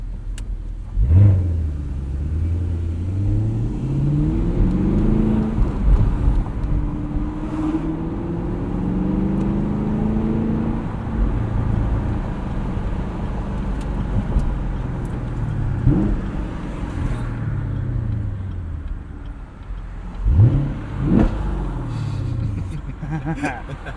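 A 2017 Chevrolet Camaro 2SS convertible with a manual transmission drives under steady engine drone, revving up and falling back through gear changes, with a person talking over the engine throughout.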